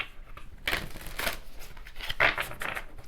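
Tarot cards shuffled at the start of a weekly reading, making several close, crisp riffles and soft slaps in uneven bursts, moderately loud with no speech.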